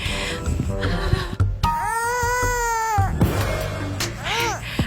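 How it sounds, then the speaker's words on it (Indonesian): An infant wails in a long, sustained cry, then a shorter rising-and-falling one, heard on a street with quieter background noise between the cries. "Masa di tengah jalan begini ada suara bayi sih?"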